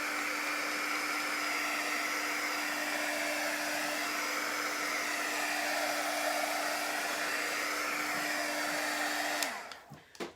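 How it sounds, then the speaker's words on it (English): A heat gun blows steadily over chalk paint, a loud, even whooshing hum with a constant tone that runs for several seconds before cutting off, followed by a few faint handling clicks. "It doesn't take long with a good heat gun."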